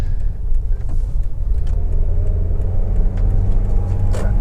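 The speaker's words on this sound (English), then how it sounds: "Engine starts absolutely instantly." A Toyota Avensis 1.8 petrol engine settles into a steady, smooth idle, heard up close as a low continuous rumble with faint mechanical ticking.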